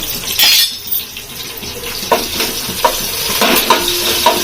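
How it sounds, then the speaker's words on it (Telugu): Potatoes fry with green chilli, curry leaves and ginger-garlic paste in a pan, giving a bright sizzle broken by repeated scraping stirs and light clinks of a spoon against the vessel. "సిమ్లో పెట్టి మంచిగా కొంచెం వేగేటట్టు వేయించుకోవాలి"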